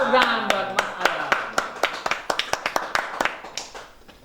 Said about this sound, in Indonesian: Tepuk tangan buat Mas Adam.